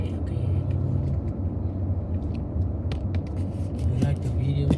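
A car drives through Balboa Park, its engine rumbling low and steady from inside the cabin, with faint clicks and knocks and a few soft voices in the background.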